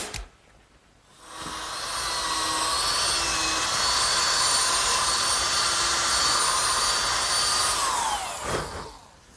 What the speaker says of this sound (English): I'm pre-drilling holes for the screws that will fasten the top.